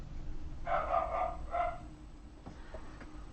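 A dog barks indoors, two close, fairly loud barks in quick succession, followed by a few faint softer sounds against quiet room noise, with no talk.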